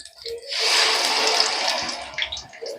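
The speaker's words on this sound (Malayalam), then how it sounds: "ഇതിലേക്ക് വെളിച്ചെണ്ണ ഒഴിക്കുക കേട്ടോ." Coconut oil poured into ground hibiscus, tulsi and bhringraj herbs, a continuous close liquid pour of about two seconds that tapers into a few drips and splashes.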